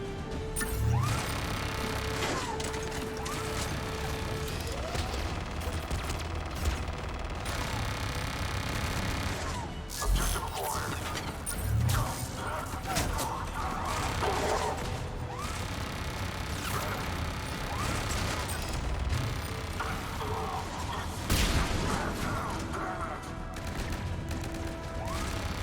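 Turret gunfire in the shooter game Mass Effect 3 during a fight at Cerberus headquarters, with dense bursts of automatic fire and sharp impacts layered over a constant mechanical din, loud and busy throughout.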